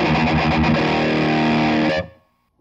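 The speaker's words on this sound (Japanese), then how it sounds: "結構歪みますよね。" An electric guitar played through a Rocktron Metal Planet distortion pedal rings out as a thick, heavily saturated chord, loud and close, sustaining for about two seconds before cutting off abruptly into silence.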